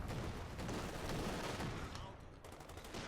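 Rapid overlapping gunfire and bursts rattle through a battle between German Wehrmacht and US forces in the strategy game Company of Heroes 2, with mortar fire and a dense, continuous crackle throughout, played fairly quietly.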